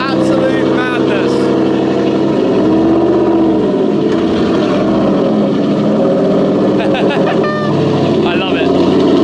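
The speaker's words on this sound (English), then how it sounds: "the Aston GT8 with," A loud, aggressive Aston Martin GT8 engine revs hard and continuously, rising and falling in sharp bursts close by, while a voice talks over it.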